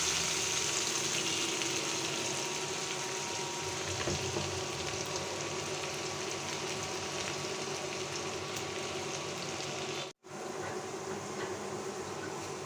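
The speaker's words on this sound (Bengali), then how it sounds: "পেঁয়াজগুলো গোল্ডেন ব্রাউন করে ভেজে নিচ্ছি" Onions fry golden brown in oil with whole cumin, a steady, soft crackling sizzle that carries on evenly, close by and without speech, cutting out briefly near the end.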